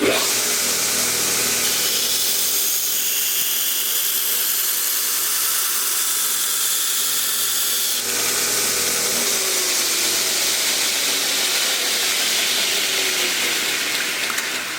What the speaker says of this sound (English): I'm just going to take it to the 2x72" sander and just sand it right off.